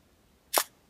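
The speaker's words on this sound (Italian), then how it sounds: "specchio sollevato, tendina aperta, diaframma in posizione di lavoro e scatto" A Hasselblad camera fires once, its mirror and shutter making a single sharp mechanical clack with a brief thud, close and distinct against near silence.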